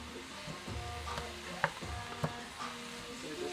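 Baby bella mushrooms sizzle in a hot pan with a steady soft frying hiss, broken by a couple of sharper clicks as they are stirred.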